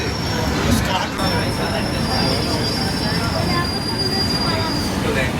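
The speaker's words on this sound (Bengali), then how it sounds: "মেট্রো স্টেশনে নামলাম এখান থেকে" A Kolkata metro train at Kalighat station gives a loud, steady rumble of wheels on rail, with long high-pitched wheel squeals running through most of the stretch.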